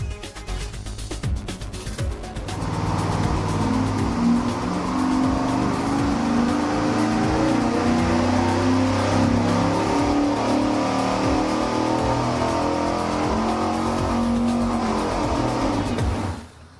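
A V8 engine fitted with long-tube headers and a small camshaft roars at sustained high revs on a dyno, loud and continuous for about fourteen seconds after a brief lower-pitched start, then cutting off abruptly.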